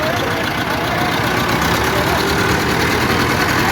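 A tractor engine working in first high gear during a tractor power show, a loud, continuous, dense roar that holds steady throughout without a break.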